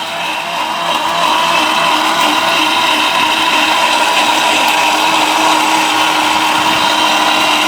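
A powerful steel-bush blender machine runs at full speed, producing a loud, steady motor whine and roar that holds unbroken from start to finish, close up and with no talking.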